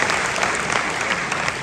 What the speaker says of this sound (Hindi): बस ताली बजा रहे हो आप